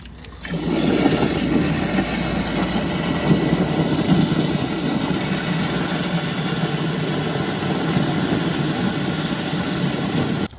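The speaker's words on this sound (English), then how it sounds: "Actually may just fill this basin up so that there's pressure from the water." Water runs steadily into a basin on a garage floor beside a drain, a continuous rushing, splashing stream that starts after a brief pause and holds constant and close.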